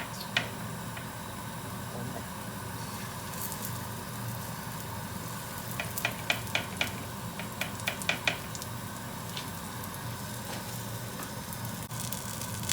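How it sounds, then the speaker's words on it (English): Gyoza dumplings sizzle in hot oil with a quiet, steady hiss, and light ticking pops of oil and a few clicks of utensils on the pan break through it. "That means the oil is really hot now, and this is where you put your dumplings in."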